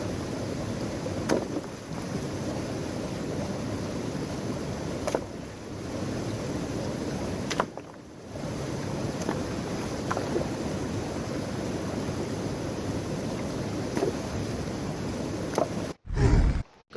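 Steady engine drone and rushing wind of a small boat heading downriver at sunrise on a California gold-prospecting trip, constant and close for the whole stretch, with a brief dip midway and a sharp louder burst at the very end.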